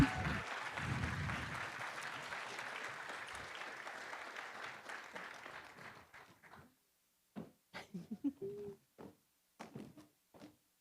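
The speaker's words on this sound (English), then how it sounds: "Let's hear a big round of applause for Jen and all of our speakers" A conference crowd applauds loudly, the clapping gradually fading out over several seconds, followed by scattered thumps and faint movement noises.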